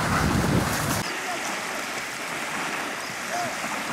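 Waves and splashing water in the Sea of Azov while people swim near the shore, with rough, wind-buffeted rushing that is loudest at first and then settles into a softer steady wash.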